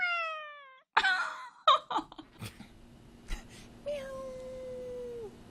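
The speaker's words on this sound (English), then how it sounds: "Was that a real meow?" A cat gives a high, drawn-out meow at the start and another long, falling meow near the end, close and clear, with a few brief breathy noises and laughs between.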